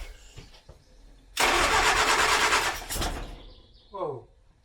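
A 1970s Austin Allegro being revived, a few faint clicks and cranks, then the engine catches and roars loudly for about two seconds before dropping back, followed by a short rising squeal.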